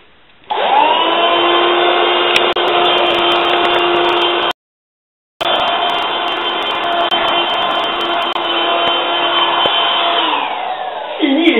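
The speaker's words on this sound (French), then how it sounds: "grâce à ce Power Aura, nous pouvons aspirer les miettes sans se fatiguer" A Power Aura handheld vacuum cleaner sucking up crumbs runs with a loud, steady whine and rushing airflow, briefly cut off midway before resuming at the same level.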